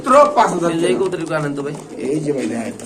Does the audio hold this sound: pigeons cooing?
yes